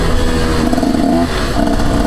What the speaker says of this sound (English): Get the bike warmed up a little bit.